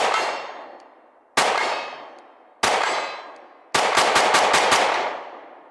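A GP Arms pistol fires several loud, close shots: three single reports spaced apart, then a rapid string of about six, each cracking sharply and ringing out in a short decay.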